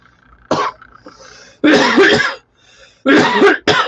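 Several harsh coughs come in bursts separated by pauses, close and loud, the later ones longer and more chesty.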